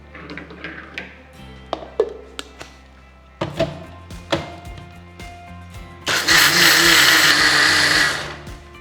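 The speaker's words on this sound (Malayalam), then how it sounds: "അരിയുടെ സെയിം ലെവലിൽ വെള്ളം ഒഴിച്ച് അരയ്ക്കും" A mixer grinder whirs loudly and steadily through soaked raw rice and water for the final few seconds, preceded by scattered knocks, taps and clatter of preparation.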